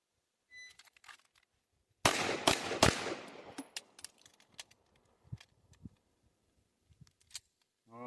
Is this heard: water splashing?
no